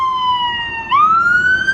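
Loud emergency vehicle siren close by outdoors in the countryside, a steady wailing tone that drops slightly then sweeps upward again, alone without talk.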